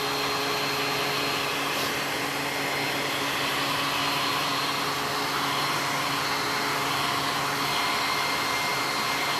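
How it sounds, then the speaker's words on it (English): A loud blow dryer drying paint on a Snoopy painting roars with a steady, continuous airy whoosh that does not let up from start to finish. "So please don't mind if you hear the loud blow dryer."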